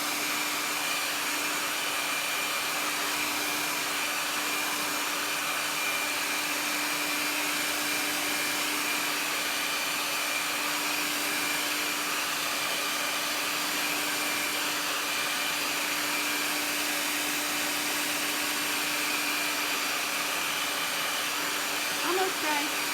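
A craft heat tool, recently rattling before it died, blows hot air in a steady, continuous whoosh with a faint whine, running alone and close throughout.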